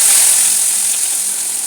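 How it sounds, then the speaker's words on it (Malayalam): Mustard seeds fry in hot oil with a dense, loud, steady hiss and crackle heard up close for a brief moment. "കടുക് വറുത്ത്"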